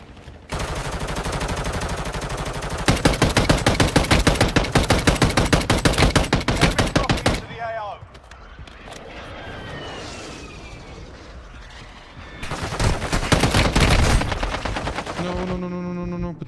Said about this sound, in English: Just having fun sniping this guy.